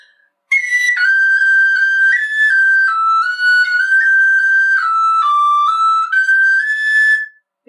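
A tin whistle plays a clear, bright melody alone and close, its steady sustained notes sliding and bouncing through quick finger ornaments for about seven seconds.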